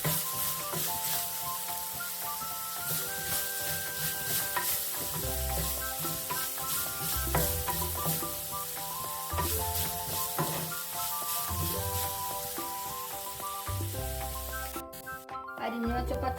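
A ginger and tamarind mix for Kerala puli inji sautés in a pan, a steady close sizzle with periodic stirring scrapes, under background music tones that run throughout.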